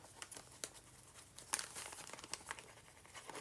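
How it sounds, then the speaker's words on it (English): Thin, crinkly journal paper crumpling as a page is opened, a series of soft irregular crackles and rustles, close and quiet, with no speech. "The sound of the thin paper that is crumbling when you open up the page."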